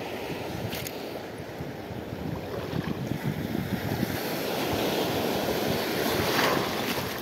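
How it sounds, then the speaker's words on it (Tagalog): Strong sea waves wash and surge continuously around a small fishing boat, with heavy wind buffeting the microphone, a dense roaring wash that builds slightly toward the end; no one speaks. "Malakas ang alon."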